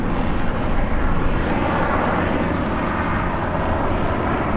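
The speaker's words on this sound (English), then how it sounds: "I do love the sound of an ATR." An ATR turboprop airliner at Birmingham Airport, its engines producing a steady, loud broadband roar that holds level and close throughout with no pauses.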